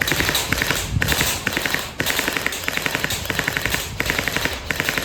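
Electric gel blaster, PDX model, firing in rapid full-auto bursts with a steady mechanical rattle and repeated sharp pops, loud and close, no talk.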